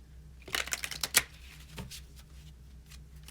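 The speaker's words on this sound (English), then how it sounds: "let me just do a quick shuffle here with the deck." A tarot deck riffled and shuffled up close, a quick flurry of papery flutters followed by softer sliding and tapping.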